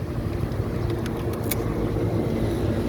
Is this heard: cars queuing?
yes